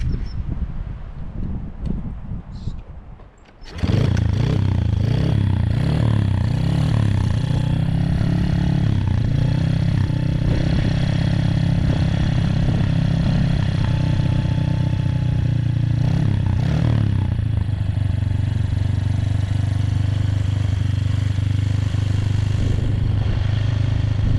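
Honda CRF50 dirt bike with an 88cc big bore kit kicks to life after a few seconds of clatter, then idles a little high with a steady, loud, throbbing single-cylinder putter.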